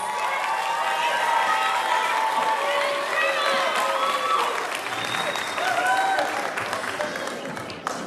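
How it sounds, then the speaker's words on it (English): Enthusiastic audience applause at an eighth grade moving-up ceremony, sustained clapping from a large crowd with whoops and whistles riding over it, loud and continuous. "Please give Sabrina a round of applause."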